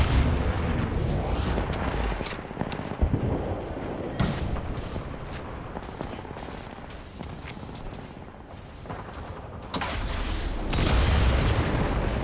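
Video game combat with a frag grenade going off, heavy booming blasts and rumbling explosions mixed with bursts of gunfire, loud throughout the long stretch, no talking.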